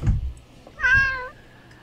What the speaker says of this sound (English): he meows